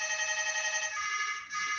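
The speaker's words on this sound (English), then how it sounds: "my phone just rang out" A phone rings during a live online talk, a steady electronic ringtone filling about two seconds before fading slightly, with no speech over it.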